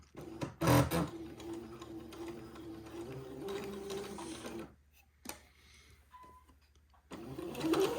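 Sewing machine running a basting stitch across a doll's bubble dress, a steady close mechanical whir for several seconds, then a short pause before the motor starts up again.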